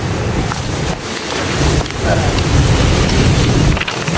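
Strong wind buffets a campsite at night, a loud continuous rushing roar with gusty surges and flapping, broken by brief dips in intensity.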